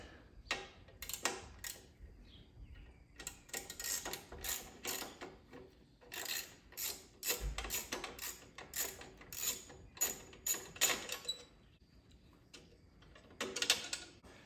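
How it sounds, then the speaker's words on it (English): A hand ratchet loosens the top handlebar bolts on a 2015 Harley-Davidson Road King being fitted with 16-inch bagger bars, making rapid clicking bursts in repeated strokes with brief pauses, close and alone. "Okay, taking these bolts."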